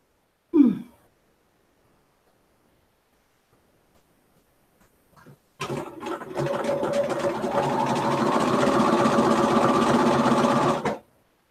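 A sewing machine stitches quilt seams in a steady, continuous run of about five seconds, loud and close; a brief breath or sigh and faint handling sounds come first, with no speech over the machine.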